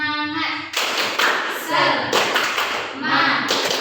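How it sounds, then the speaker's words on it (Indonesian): An Indonesian classroom performs a rhythmic 'tepuk semangat' clapping chant. Groups of sharp, loud handclaps come in patterned bursts while students chant together. "Tepuk semangat."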